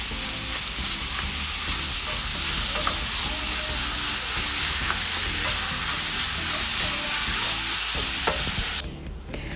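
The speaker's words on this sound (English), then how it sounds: "Now we can add some beef mince." Beef mince frying in a pan for spaghetti bolognese: a loud, steady sizzle with the scrape of stirring continues close-up throughout, with no voices.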